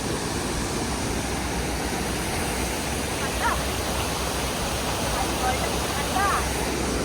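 Waterfall on the road to Nathula Pass in Sikkim, a loud, steady rushing roar of falling water, close and continuous, with faint voices barely audible under it.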